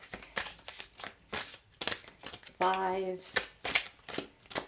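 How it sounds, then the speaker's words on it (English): A deck of cards is shuffled repeatedly in a bursty rhythm of short, crisp riffling flutters, with a nearby voice counting the shuffles between them. "so we're shuffling it 8 times, okay?"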